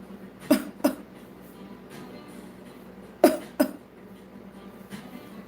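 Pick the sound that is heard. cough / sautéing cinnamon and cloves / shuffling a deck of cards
cough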